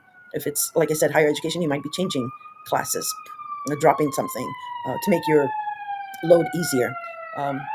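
A siren wails outside, its rising then slowly falling tone heard steadily beneath a person talking indoors.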